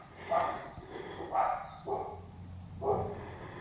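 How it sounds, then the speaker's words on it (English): Dogs barking in a few separate bursts, roughly four short barks spaced about a second apart, moderately distant and not very loud, set against low room noise during an exercise class. "That's the dogs."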